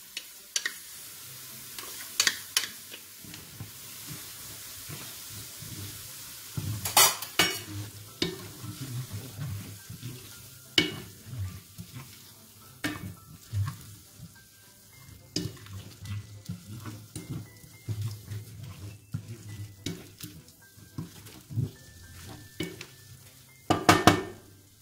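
Tomato sauce with salt, pepper and tomato juice stirred and sizzling in a pan, a steady fry under repeated scraping and clinking of a utensil against the pan, for a red shrimp dish with wild chicory.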